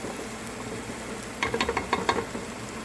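Minced garlic and onion cook in a pan for creamy potato soup, a soft sizzle with a short burst of quick stirring scrapes and pops near the end.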